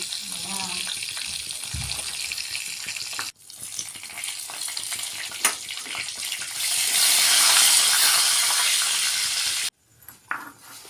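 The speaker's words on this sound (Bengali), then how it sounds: "এবার ওই তেলে গোটা গরম মশলা ও শুকনো লঙ্কা দিয়ে কিছুটা নেড়ে নেব" Whole garam masala and dried red chillies are stirred in hot oil left in a pan after fish frying, producing a loud, steady sizzle with bursts of scraping that swell midway and then cut off abruptly.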